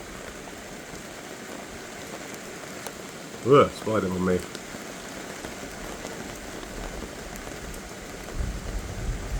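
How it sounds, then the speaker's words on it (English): Steady heavy rain falls throughout a full thunderstorm outdoors. It forms a constant wash, and a person briefly speaks over it partway through. "This is a full-on thunderstorm out here."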